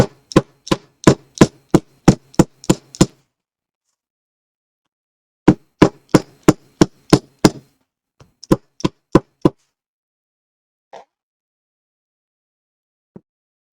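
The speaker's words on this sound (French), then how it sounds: "On prend notre marteau et on vient attendrir" Quick sharp taps in rapid bursts, a hammer softening faux leather seams close by, pausing between runs and ending with a few scattered knocks.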